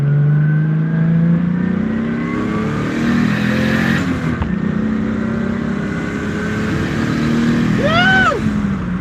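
A car powered by a freshly built Toyota 2JZ engine accelerates with a loud, close engine note, the pitch climbing through gears with brief dips at the shifts, and a rising whine or chirp near the end.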